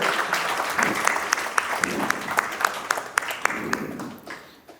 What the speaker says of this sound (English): a big round of applause for our upcoming lecturer